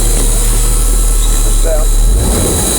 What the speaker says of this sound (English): So, kind of want to give it some throttle.